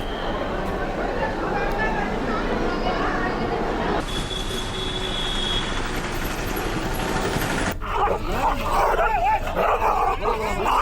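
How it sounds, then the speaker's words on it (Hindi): Stray dogs barking and yipping in a street setting, with repeated barks and whimpers of varying loudness; a person talks over the barking for much of the clip. "तो आवारा कुत्तों का कहर लगातार बरप रहा है"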